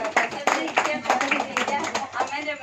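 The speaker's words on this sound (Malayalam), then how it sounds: "ധ്രുവിനൊരു ക്ലാപ്പ്." Children at an anganwadi (kindergarten) admission festival clap for a pupil, a few uneven rounds of light hand claps, fairly close, with voices talking alongside.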